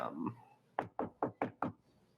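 Five sharp knocks on wood come in a steady, evenly spaced run as a tabletop game sound effect, loud and close, after a short stretch of softer murmuring.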